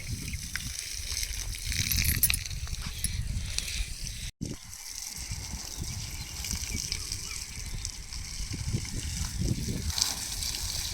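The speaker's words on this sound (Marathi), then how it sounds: "बरोबर फोर्स येतोय पाण्याला" Water gushes and splashes steadily at strong pressure from a tank pipe, a constant rushing flow with a brief dropout partway through.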